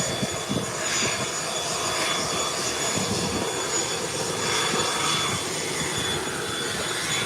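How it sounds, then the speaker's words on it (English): A Cessna 172 single-engine plane taking off at Howard Hamilton International Airport, a loud, sustained engine drone that holds steady for several seconds with no speech. "Up and away. The Cessna 172,"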